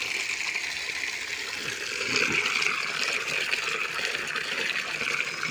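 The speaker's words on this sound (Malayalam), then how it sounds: "നമുക്ക് കുട്ടി ബക്കറ്റ് നിറച്ച് വെള്ളം ഒഴിക്കാം" Water gushes steadily into a small bucket, a continuous broadband rushing and filling sound at close range with no talk over it, part of mixing a fertilizer from vegetable waste.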